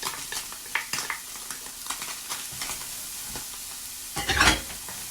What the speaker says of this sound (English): now I'm gonna come in here and actually cook this cauliflower